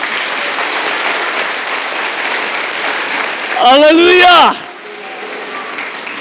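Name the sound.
congregation applause for Peter and John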